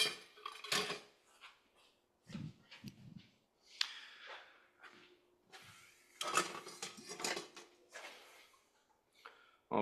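A snack is stirred in a bowl with a utensil, giving faint, irregular clinks and scrapes in quiet surroundings, with short gaps between strokes.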